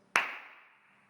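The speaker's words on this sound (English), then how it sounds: "But in this room, there's so much more reverb and my clap lasts 2 or 3 seconds" A single sharp hand clap in an echoey, reverberant room, its bright crack followed by a long, smoothly fading tail of reverb that lingers well past the hit, alone and close.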